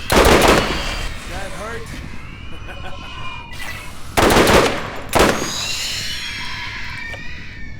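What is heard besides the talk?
burst-fire gunfire from a video game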